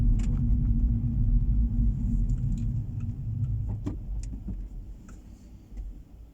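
Traffic rumbles on the road behind a car, a low steady drone with faint clicks and rattles that slowly fades toward the end.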